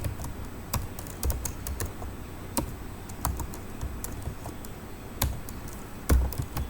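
Typing on a computer keyboard while writing basic code structure in Notepad, a steady run of close, crisp key taps with a few louder strikes, no voices.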